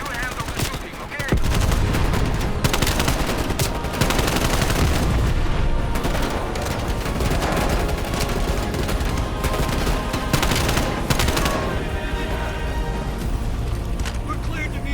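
Call of Duty: Black Ops Cold War combat with sustained automatic gunfire during a helicopter firefight near Yamantau. Dense bursts run almost without a break, mixed with mechanical clatter and explosive booms, and shouting voices sit under the shooting.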